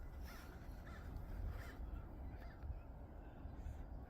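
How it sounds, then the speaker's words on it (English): Several crows caw faintly while flying overhead on a snowy outdoor walk, with short scattered calls buried under steady wind and ambient noise. "A bunch of crows just flying over."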